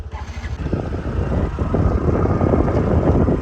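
Motorcycle ridden along a village road toward a river, with a steady, rumbling engine drone and wind noise that builds slightly and holds close and loud throughout.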